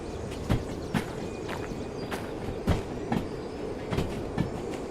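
A train in the rail simulation game Derail Valley, played in VR, rolls along with steady rumbling and a regular clickety-clack of wheels over rail joints, sounding loud and continuous.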